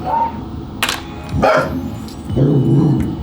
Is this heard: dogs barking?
yes